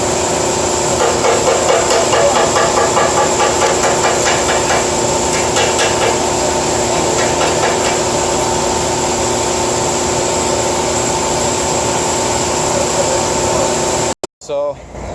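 Reaming out the exhaust stinger of a motorized bicycle with a BT-80 electric-start engine: steady metallic grinding and scraping runs loud and close for about fourteen seconds, with a constant mechanical hum underneath, then stops abruptly.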